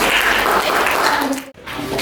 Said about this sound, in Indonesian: Berikan tepuk tangan kepada Iqbal.